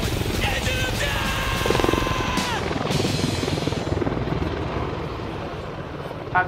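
An Apache gunship helicopter at the RAF Cosford Airshow flies a turning quick-stop manoeuvre into a hover, its rotor and engine roar loud and continuous throughout, with a faint turbine whine sliding in pitch above it.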